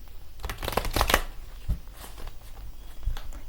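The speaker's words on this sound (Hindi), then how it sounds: "अच्छे से शफल करेंगे।" Tarot cards being shuffled by hand in a few quick riffling bursts, close and clear, with short pauses between the flurries and no talking.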